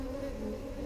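Honey bees hum steadily at a Flow Hive frame, a close, continuous buzzing drone with no break.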